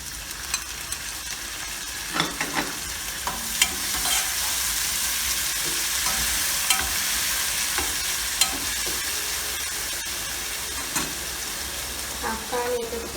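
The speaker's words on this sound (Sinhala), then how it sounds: "දැන් ඒකට අපි තක්කාලි එකතු කරමු." Tomatoes go into a hot frying tempering for Rulan pittu, sizzling and hissing steadily while a spoon scrapes and stirs in irregular clicks, close up.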